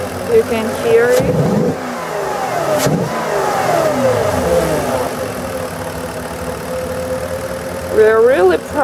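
A tuned Porsche Cayenne V8 engine revs up and settles back several times, loud and close, its pitch sweeping up and down over a steady idle.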